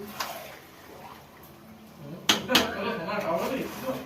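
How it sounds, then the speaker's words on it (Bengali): Meat cooks in a home kitchen for a holiday feast, with scattered clinks of pots and pans, a couple of sharper knocks and watery sizzling, all under ongoing conversation. "এখানে মাংস রান্না চলছে এখন"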